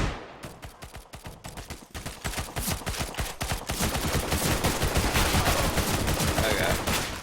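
Rapid, loud bursts of gunfire from a player pre-firing at corners in CS:GO: dense strings of sharp shots and clattering impacts, starting in short bursts and then merging into near-continuous firing.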